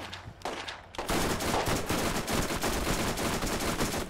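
Rapid, dense gunfire from the video game Borderlands, a sustained close burst after a brief quieter lead-in, continuing without pause.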